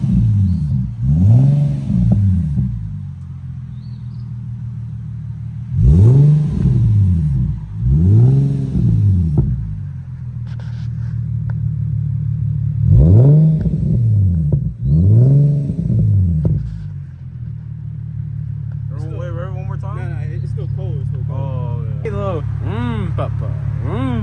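An Infiniti G37 with a newly installed exhaust revs repeatedly, each blip rising and falling sharply over a steady idle rumble, with people talking near the end.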